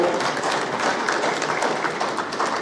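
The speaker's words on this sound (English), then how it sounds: "round of applause again for Mr. Ibrahim Sanfo" Audience applause at a panel discussion on raw cashew crop prospects, a steady, dense wash of clapping that holds evenly throughout with no break.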